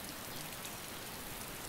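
Rain in the video game DayZ, a dense, even hiss of falling drops that stays steady through the short stretch, with no voices over it.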